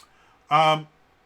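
A phone notification sounds once: a short, steady electronic tone lasting about a third of a second, clear and close against near silence.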